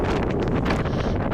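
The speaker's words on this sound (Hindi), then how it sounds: "अभी देखिए कितना तेज़ हवा से ये कितना तेज़ पानी" Strong monsoon wind gusts roar and buffet the microphone as rainwater is blown off a waterfall at Naneghat in Maharashtra, a continuous loud rushing with no talk.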